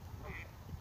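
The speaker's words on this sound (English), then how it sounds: "Did you hear that? We got some geese in here." A brief, faint honk from a goose, heard once over a low, muffled background at a drag racing event.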